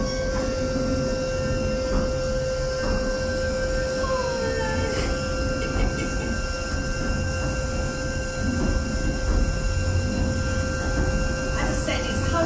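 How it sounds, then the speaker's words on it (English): A small narrow-gauge train on Southend Pier, a 130-year-old seaside pier, pulls away from the station, giving a steady rumbling wheel-and-motor drone with a few thin high tones running throughout. "We're now on board the train that's going to take us to the end of the pier."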